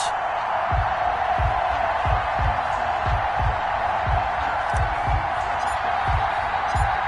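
A stadium crowd roars in an American football video game, Dallas Cowboys versus Atlanta Falcons, a dense steady wash of cheering under a game announcer's voice, with regular low thumps pulsing about every two-thirds of a second.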